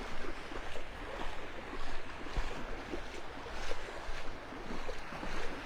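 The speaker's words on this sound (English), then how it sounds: "That wind's, I don't know, it's blowing between 5 and 10 miles an hour." A light 5 to 10 mph wind blows across the beach at Delnor-Wiggins in North Naples, Florida, a steady broadband rush with gentle swells, likely mixed with surf, and no voices.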